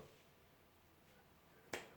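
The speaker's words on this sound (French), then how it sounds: "Un claquement de doigts" A single crisp finger snap rings out during a card trick, near and sharp, after a quiet stretch of faint room tone.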